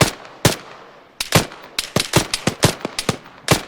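Gunfire in the video game Arma 3 rings out as a loose volley of sharp rifle shots, single cracks at first and then faster bursts, loud and close with no talk over them.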